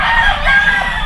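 Chickens and roosters fill a poultry house with loud, dense clucking and crowing, a brief steady chorus up close with no speech over it.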